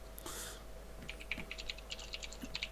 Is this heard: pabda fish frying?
no